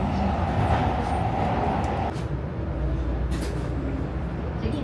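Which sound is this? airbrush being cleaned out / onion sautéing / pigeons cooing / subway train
subway train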